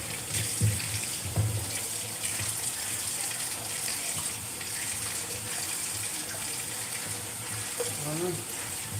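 Tap water runs steadily into a sink during dishwashing, a continuous watery hiss with occasional clinks and splashes underneath.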